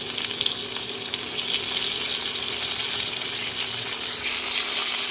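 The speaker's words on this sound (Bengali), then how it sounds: "আলুটা প্রায় ভাজা হয়ে গেছে দিয়ে দেব টমেটো কুচি" Chopped potatoes sizzle steadily in a pan of hot oil, an even, bright frying hiss with a faint low hum, heard close with no talking.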